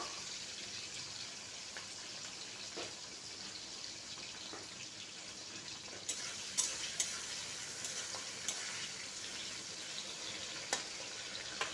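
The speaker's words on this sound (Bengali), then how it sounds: "এগুলোকে আমি ড্রাই রোস্ট করে নিচ্ছি। তার সাথে সাথে পেঁয়াজগুলোকেও আমি হালকা ড্রাই রোস্ট করে তুলে নেব।" Chicken pieces and onions dry roast in a pan, giving a faint, steady sizzle. Occasional clicks and scrapes of stirring come through, with no voices.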